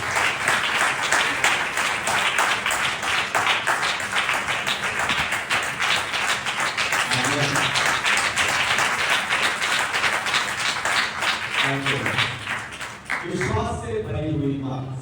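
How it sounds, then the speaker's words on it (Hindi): Loud, sustained applause from a congregation at a church sermon, dense clapping filling most of the stretch before fading as a voice resumes speaking. "जोरदार ताली बजाकर स्वागत करें"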